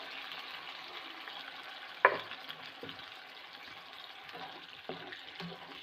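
Vegetable stock water is poured into a sizzling kurma in a pan, a sharp splash followed by steady frying sizzle and occasional spoon scrapes as it is stirred, fairly faint and close.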